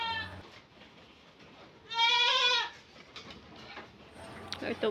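A goat on a goat farm lets out one loud, wavering bleat midway, with quieter rustling and faint animal sounds before and after.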